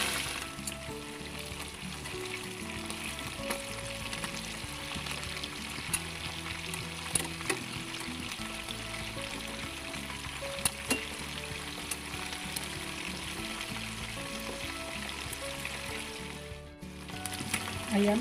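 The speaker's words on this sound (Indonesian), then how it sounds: "Minyak sudah panas dan sekarang akan saya mulai goreng ayam." Chicken pieces frying in hot oil, a dense continuous sizzle close up with faint crackles, steady for the whole stretch with no talk.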